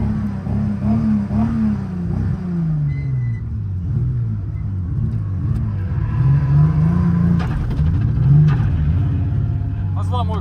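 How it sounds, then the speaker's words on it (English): A Toyota 100 Chaser engine runs rough and uneven, its rumbling note wavering and surging in irregular pulses for about ten seconds, close and fairly loud, with speech over it in places. "Started misfiring."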